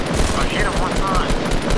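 Loud, dense gunfire in Fortnite, rapid automatic bursts filling the moment with a voice speaking underneath.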